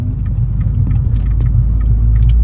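Fiat 500 Abarth Stage 1 hatchback driving, with a steady low engine drone and road rumble filling the cabin, loud and close, with faint clicks and rattles over it and no talk.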